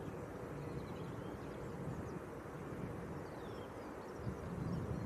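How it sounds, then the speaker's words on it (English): An Aer Lingus ATR turboprop airliner flies inbound to Leeds Bradford Airport, giving a steady, moderately distant rumble mixed with wind noise on the microphone, with no talk. "That's our Aer Lingus ATR inbound."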